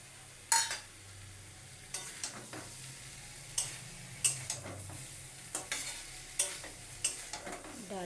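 Vegetarian banana flower curry with yellow pea lentil fritters simmering in a pan, a soft sizzle broken by repeated scraping stirs of a spoon against the pan at an uneven pace, close and without talk.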